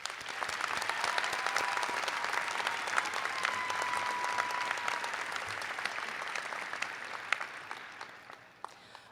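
Applause fills a fall college convocation ceremony for public service graduates, a steady dense clapping from a large audience that holds for several seconds before tapering off near the end.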